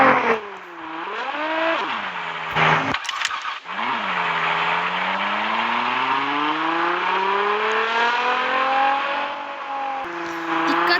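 A car accelerates hard and speeds away during a police chase, its engine revving and climbing in pitch over several gear changes, loud and close, with brief sharp bursts of noise partway through.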